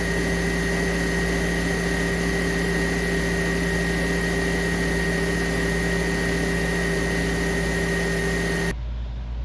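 A Clarke Carpetmaster 212 carpet cleaner runs its motor with the brushroll motor engaged, a loud, steady, close droning whine with strong tonal hum that holds level throughout and then cuts off abruptly.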